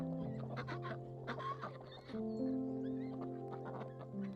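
Layer hens, a flock of American breeds, cluck and chatter close by in a farmyard shared with geese, with overlapping calls and a few longer squawks, no talking.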